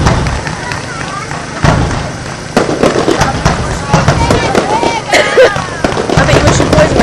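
Fireworks display at Bournemouth beach in summer, with repeated loud bangs and crackling bursts at irregular intervals, heard over nearby people talking throughout.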